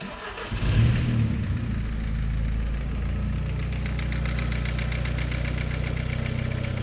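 VW Passat B3 with a 1.8T 20V engine and big Pulsar turbo upgrade cranks and fires up, then settles into a steady, rumbling idle with a slightly uneven pulse, close and loud.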